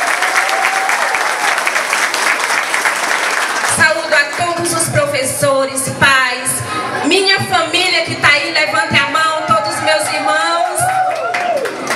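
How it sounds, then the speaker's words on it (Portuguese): Applause from a crowd at a school inauguration in the São Francisco neighbourhood of Caxias, Maranhão, rings out briskly for several seconds, then a voice over a loudspeaker takes over with a few scattered claps beneath. "Palmas para ela."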